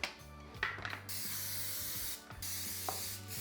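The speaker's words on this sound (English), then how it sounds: "So I'm gonna spray my pan before I add in the brownie mix" Cooking spray hisses from an aerosol can onto a brownie pan in two long, close bursts separated by a brief pause, with faint clicks and rattles of the nozzle at the start of each.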